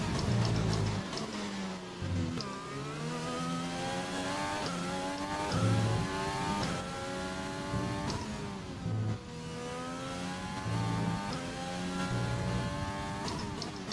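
A race car engine in the EXFL racing video game screams through a fastest lap at Bahrain, its pitch climbing and dropping with gear shifts and revving, loud and continuous with no talking.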